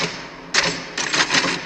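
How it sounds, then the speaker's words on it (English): Typewriter keys strike in two bursts of rapid, close clacks separated by a brief pause, fairly loud against a quiet room. "you hear me typing"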